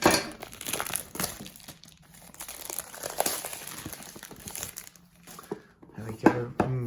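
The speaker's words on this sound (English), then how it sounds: "just going to cut down the cellophane on the side here." Cellophane wrap being cut along the side of a new board game box, with crinkling and tearing rustles that come and go over several seconds, close and fairly quiet, with a voice talking at times.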